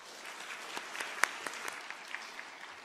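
Applause at a university graduation ceremony in a hall, many hands clapping steadily at moderate distance with a few sharper claps standing out, no talking.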